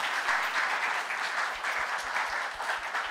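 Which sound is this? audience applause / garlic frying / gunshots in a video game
audience applause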